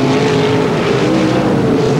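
Sprint cars racing around the Ascot dirt track in 1984, engines roaring loud and continuous as the field sweeps past, with no voices.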